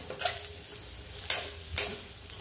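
Coriander balls being sautéed in ground spices for a Maharashtrian amti, with a steady sizzle and stirring scrapes, plus a few sharper spoon strikes against the pan standing out.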